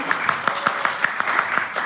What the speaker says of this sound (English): Can we please have a round of applause for the candidates?